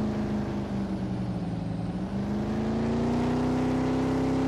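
Engine of a 2009 Honda Accord in a Farming Simulator 19 mod, a steady loud drone that rises slowly in pitch as it revs a little, running alone without any voices.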